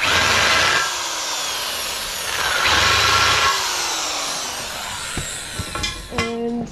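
An electric drill, used as a countersink on a steel overhang being built for a Mercedes-Benz Unimog, whines up and down in two loud, close bursts, followed by sharp metallic taps and clinks.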